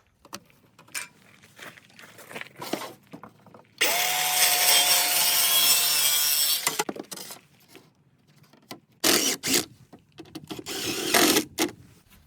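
A power saw cuts through pieces of paneling during an RV water heater install, one loud sustained pass of about three seconds between quieter bursts of scraping and handling.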